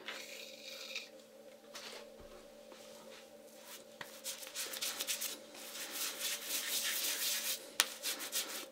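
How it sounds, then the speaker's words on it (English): Gillette Foamy shaving cream rubbed onto a bristly two-day-growth face by hand, a close, soft, continuous scratchy rubbing that grows busier and louder toward the end. "Let's put the Gillette Foamy on the face."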